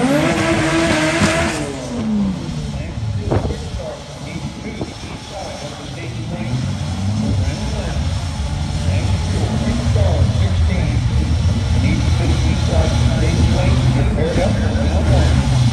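A Hot Rod Honda Integra race car drives during a rainy qualifying session, its engine roaring loud and close at first, then settling into a steady droning hum with background noise throughout.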